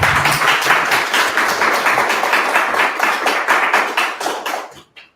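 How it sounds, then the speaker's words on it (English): An audience at a Svelte London meetup claps for a speaker, a dense, loud burst of many hands that holds steady for several seconds and then tapers off abruptly. "let's clap for Scott"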